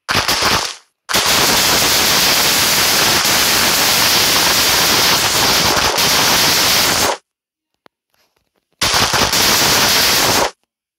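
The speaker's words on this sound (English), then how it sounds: "This is exploding." Loud, harsh explosion bursts from the video game Minecraft, with two long roaring blasts of crackling noise and a shorter third one separated by near silence.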